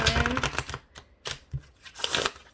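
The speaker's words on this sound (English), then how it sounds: "I'm just going to shuffle one more" Close, crisp riffling and flicking of a deck of oracle cards being shuffled, in quick uneven bursts with brief pauses.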